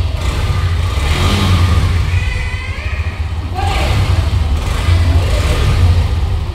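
Hero Xtreme 125R motorcycle engine revving nearby, a mid-pitched engine drone that rises and falls in repeated throttle blips over a steady idle.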